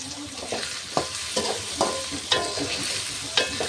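Chopped onions frying in oil in a karahi on a stove, a continuous close sizzle punctuated by regular scrapes of a spatula against the pan, with no voices.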